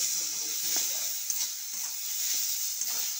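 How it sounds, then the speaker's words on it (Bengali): Spice paste of ginger and green chili with turmeric fried in a pan, a steady soft sizzle and hiss with faint stirring scrapes, close and quiet, no voices. "এবার ভালো করে আমি কষিয়ে নেব মশলাটা দিয়ে।"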